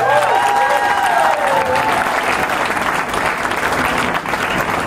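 Audience applause at a book presentation for Heleen van Royen's novel JUICE, a dense, steady wall of clapping hands that fills the room at close range from start to finish, with a faint tonal ring over the first seconds.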